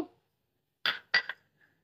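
Coriander seeds drop into a mixer jar with two or three short, bright clinks and rattles, close and quiet against silence.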